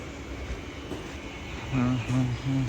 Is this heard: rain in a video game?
no